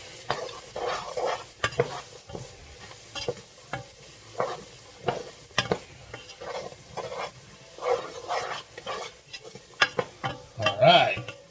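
Onion, celery and bell pepper go into a dark roux for chicken and sausage gumbo and are stirred, giving repeated close scraping strokes over a soft, steady sizzle, the stirring coming in uneven bursts.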